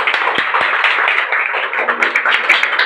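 An indoor audience at a training seminar claps together, a loud, fast patter of many hands forming a continuous burst that stays steady for a few seconds.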